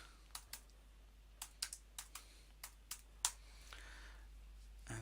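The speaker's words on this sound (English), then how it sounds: "We'll type in golf swing," Keys on a computer keyboard click in quick irregular bursts as a short search term is typed, a dozen or so crisp close taps in a quiet room with a faint steady hum underneath.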